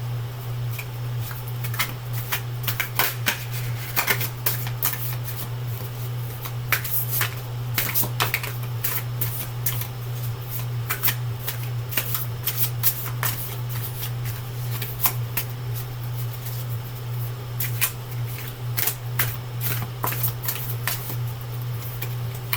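Tarot cards are shuffled and straightened in a steady run of crisp, close riffles and taps that carry on throughout with no talk.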